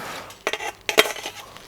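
Metal pots and pans, including a small frying pan, clink and clatter as they are handled up close in a few quick bursts of rattling contact.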